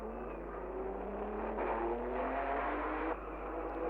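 Race cars at the Monaco Grand Prix in Monte Carlo pass by in a continuous blur of engine noise, several machines close together with rising, revving tones, moderately loud and without any voices.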